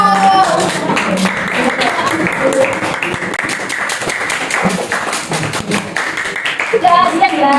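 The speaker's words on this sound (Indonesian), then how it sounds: "Tepuk tangan untuk kelompok 2." A classroom of students applauding a presenting group during a microteaching lesson, with sustained, fairly loud clapping that swells again at the end.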